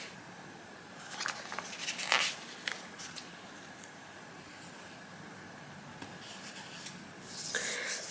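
A pen scratches and taps on paper while ratings are written into a book journal, soft intermittent strokes in a quiet room with occasional louder scrapes.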